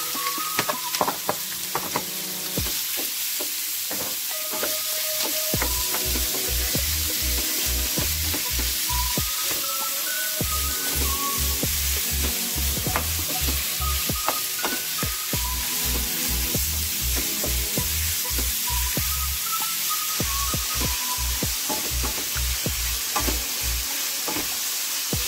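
Meat sizzles steadily in a hot pan while being fried for Ilocano igado, the crackle constant and close, with occasional stirring knocks and no talking.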